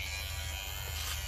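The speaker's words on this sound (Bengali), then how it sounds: "বেশি ময়লা হলে মেশিনে ধরে না। তার চুল ছোট, কিন্তু চুলগুলি কাটতে আমার খুব কষ্ট হইতেছে।" An electric hair clipper cuts short, dirty hair, giving a steady close buzzing drone with a low hum throughout the brief moment, and no voices are heard.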